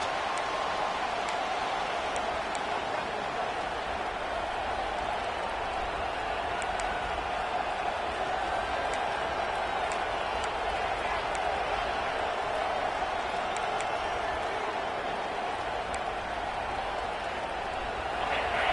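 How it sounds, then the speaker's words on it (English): A packed stadium crowd roars steadily at a UCLA vs USC college football game, a dense, unbroken wall of cheering with a commentator talking over it. "And with this place rocking, the crowd forces a false start."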